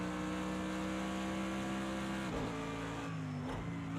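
A Mercedes AMG GT3 race car in Project Cars 2 runs steadily around the Bathurst circuit, its engine droning loud and continuous with pitch dips and rises as it brakes and accelerates through a corner.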